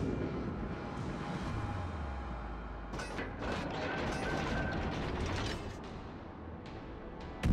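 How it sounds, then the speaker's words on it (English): A Kurfurst battleship in a naval video game fires a full broadside salvo, heavy guns booming together then rolling away with creaking, mechanical rumble, fairly distant and moderate in level with no talk over it. "So take that full broadside."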